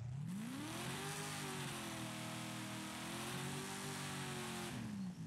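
A Chevy Impala's 6.2-liter V8 in Forza Horizon 5 revs up and holds a steady, loud, smooth drone for several seconds, easing slightly near the end, with no talking.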